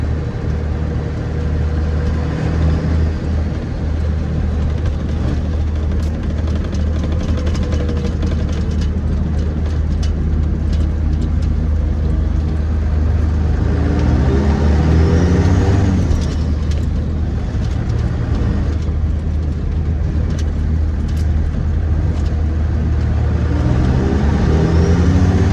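A 12-valve W350 dually truck, back on the road after a decade of sitting seized, drives along with a steady loud engine drone and low rumble, rising and falling slightly as it pulls, with no talking.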